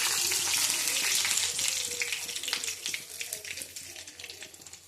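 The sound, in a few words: mustard seeds, fenugreek and garlic frying in oil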